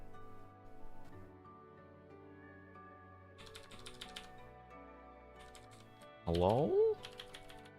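Typing on a computer keyboard hooked up to a Surface RT tablet, with short bursts of key clatter between quiet stretches, set against a steady electronic tone and a brief spoken word.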